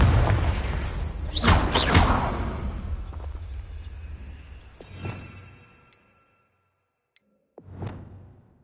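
A Confringo blasting spell goes off in Hogwarts Legacy: a loud, rumbling blast with whooshing bursts builds and fades, then after a brief near-silence a second, sharper burst erupts.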